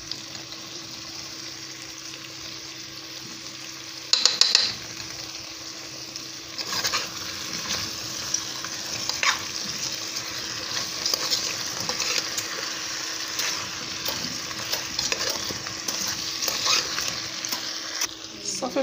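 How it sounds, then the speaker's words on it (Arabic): Potatoes fry in a pan with a continuous sizzling hiss that grows busier after a short burst of clatter, accompanied by scattered stirring and scraping sounds throughout. "من بعد ما كتشحر لي البطاطا على هذا الشكل هذا"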